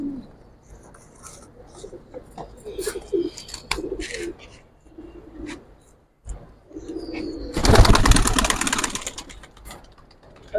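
Pigeons in a loft give soft, repeated coos at close range, scattered across the clip. A burst of wing flapping or rustling rises loudly near the end.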